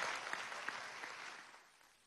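Audience applause fills a hall in the Salón Boyacá at a government seminar, steady distant clapping that fades out over two seconds.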